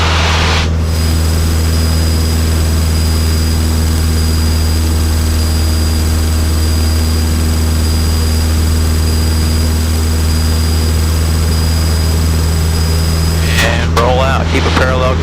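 A Cessna 152 propeller airplane drones loudly and steadily in flight during the downwind leg, a constant engine roar that fills the whole clip, with a brief radio voice near the end.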